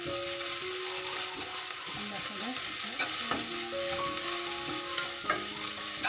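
A spoonful of ginger-garlic paste fries with golden onions in a pan for egg curry, giving a continuous sizzle broken by scraping stir strokes, with faint steady tones humming underneath.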